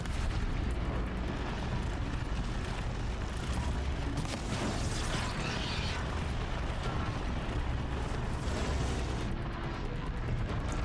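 A rumbling explosion erupts as a Rockbreaker's sack is destroyed in Horizon Zero Dawn, the blast carrying a heavy, continuous low roar and debris-laden crackle that stays loud throughout.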